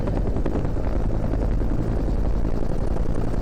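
Loud, continuous helicopter rotor chop pulses rapidly and evenly, close by and steady, with no voices, as the helicopter carries stone to a peatland restoration site at Fleet Moss.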